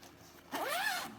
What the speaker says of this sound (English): There's a zipper over here, so you could just unzip it.